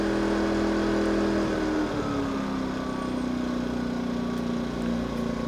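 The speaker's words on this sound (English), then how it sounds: "switching on the economy mode throttles down the noise almost 10 decibels into the 55 or 56 decibel range" A Yamaha EF2200is inverter generator runs in economy mode, giving a steady, moderately loud engine drone with a low hum that barely varies and then settles slightly lower for the rest of the time.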